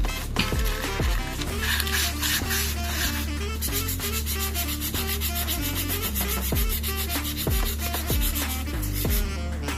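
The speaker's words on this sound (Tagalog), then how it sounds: "Meron ako ditong liha na pino. Ang grit nito is 400." Fine 400-grit sandpaper rubs a motorcycle starter's carbon contact part in steady, repeated back-and-forth strokes, close and moderately loud, with no talking.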